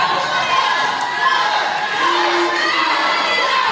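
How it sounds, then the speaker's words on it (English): A wrestling arena crowd at an NHW event roars with sustained cheering and shouting, a dense, loud wall of voices that never lets up. "Wow, listen to this crowd."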